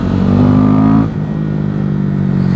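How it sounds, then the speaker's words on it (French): A car engine roars loudly under a short acceleration on the road near Mont Ventoux, a strong steady drone that rises, then drops off abruptly about a second in and settles to a lower hum. "Le temps d'une petite accélération, tu sais, tu sens là, t'as le couple et tout, ça rugit comme ça"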